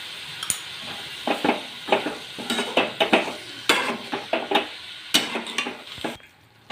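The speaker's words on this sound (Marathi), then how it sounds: "आणि परतून घेऊया" Fenugreek leaves stirred with garlic and salt in a pan, a steady run of close, rhythmic scraping and tossing strokes over a soft sizzle, with no talking.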